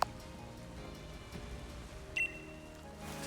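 Steady rain falls in the Pokemon Sword video game, a soft continuous patter that stays even and fairly quiet throughout, with a brief higher chime near the end.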